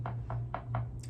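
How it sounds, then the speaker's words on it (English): A broken chair knocks four times in quick, evenly spaced soft thuds, faint against a steady background hum. "if you can hear that like knocking in the background, that's my broken chair."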